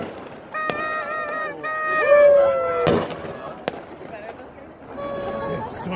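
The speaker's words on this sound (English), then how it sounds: "All these fireworks." New Year's fireworks over Seattle, watched from a waterfront spot, bursting in a few sharp cracks and booms amid crowd noise, with howling dogs and people talking nearby.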